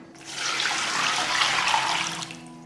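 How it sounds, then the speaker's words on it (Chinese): Cold tap water runs steadily into a bowl to soak two dried squid, a continuous close splashing rush that holds for a few seconds before easing off. "先把这个鱿鱼用冷水泡发，"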